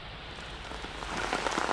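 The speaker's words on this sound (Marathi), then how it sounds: "आठवड्याची सुरुवात म्हणजेच सोमवारी देखील पाऊस पडत आहे" Steady rain pours down in Mumbai, a dense even hiss of drops hitting the ground that swells slightly louder toward the end, with no voices.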